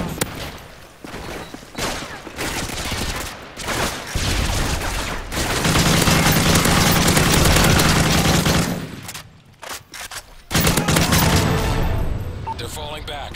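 Heavy gunfire rages in Call of Duty MW3 Survival mode around wave 24: dense automatic bursts and booming shots, loud and close, break off briefly near the end and then resume, with in-game voice callouts mixed in.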